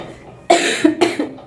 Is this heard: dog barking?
no